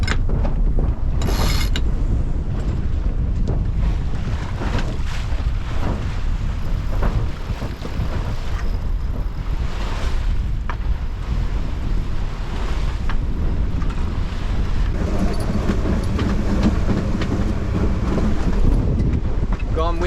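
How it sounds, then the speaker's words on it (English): Strong wind of about 35 knots on a sailboat in the South Pacific buffets the microphone in heavy gusts, with a low rumble and occasional knocks, continuous throughout. "Gone windy, really windy."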